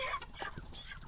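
Pastured chickens cluck and chatter nearby in a quick, uneven run of short calls overlapping one another, with no people talking.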